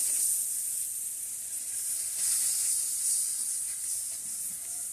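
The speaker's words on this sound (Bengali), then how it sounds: "মশলাগুলো ভালো করে আমি কষিয়ে নেব।" Ground turmeric, cumin and salt sautéing in hot oil in a pan, a continuous bright close sizzle and hiss with slight swells as the spices are stirred, no talking.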